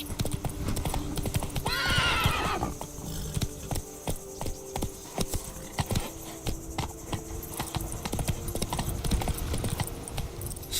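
Hooves clip-clop rhythmically as a horse gallops in The Witcher 3, with a loud whinny early on and steady hoofbeats continuing after it, without speech.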